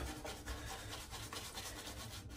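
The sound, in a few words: shaving brush working lather on a shaved head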